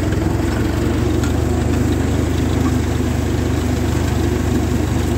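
A 1949 Ferguson TE20 tractor engine labors just off idle in fourth gear, a loud, close, low rhythmic chugging with a steady pulsing beat throughout and no talking.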